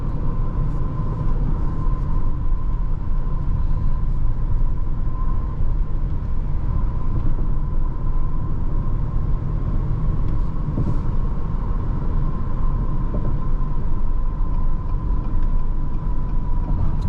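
Steady low road rumble and tire noise fill the cabin of a 2025 Acura RDX Advance on the move, a smooth, constant drone with a faint tonal hum and no one speaking.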